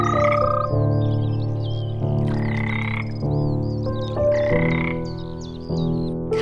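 A European green toad croaks in long, steady trilling phrases that repeat close and loud, with faint bird chirps higher above.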